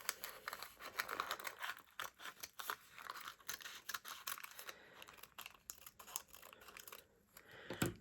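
Scissors cut roughly around a fabric shape for raw edge appliqué, a steady run of close crisp snips and crinkly rustling with no talking.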